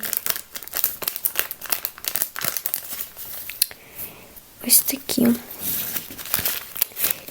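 Nivea sachet packets crinkle and rustle in the hands in near, repeated bursts of crackly handling noise, with someone talking over them throughout.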